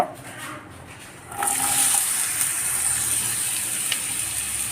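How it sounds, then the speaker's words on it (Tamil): Pirandai, the vine also called adamant creeper, drops into hot sesame oil and the pan bursts into a loud, bright, steady hiss of frying after a short quieter lead-in, with faint crackles continuing close by. "பிரண்டையை வந்து நல்லா நல்லெண்ணெயில் நல்லா வறுத்துடணும்"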